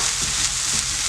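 Spices and turmeric fry in a pan for a Portuguese vindaloo, giving a steady, close, loud sizzle with light stirring throughout and no talking.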